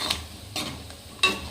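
Three brief scraping strokes of a spoon mixing chicken pickle with garam masala, close and soft, evenly spaced with quiet gaps between them.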